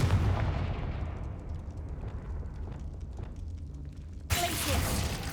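A Confringo fire spell blast in Hogwarts Legacy bursts out as a loud, booming impact, followed by rumbling, crackling game sound effects, with a fresh sharp burst near the end.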